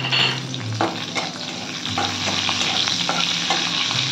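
Green chillies and nigella seeds fry in hot oil in a kadai for a Bengali pabda fish curry, giving a steady, close sizzle with faint stirring clicks throughout, no voices.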